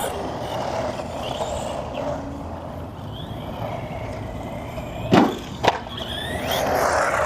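HAIBOXING 18859E RC monster truck driven in its higher gear outdoors around ramps: a steady electric motor whine with a couple of sharp knocks or jumps partway through, no voices.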